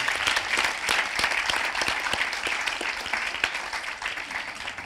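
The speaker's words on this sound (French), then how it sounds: "Vous pouvez les applaudir, oui." Audience applause following a French social-protection round-table conference, a dense sustained roar of many hands clapping at steady volume, with scattered sharper claps standing out, and no voices on top.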